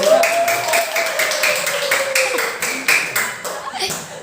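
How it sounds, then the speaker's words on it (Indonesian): A class claps hands together in a lesson, a short burst of rhythmic, fairly loud clapping with some overlapping voices in the room. "Ya, tepuk tangan untuk Mbak Biba."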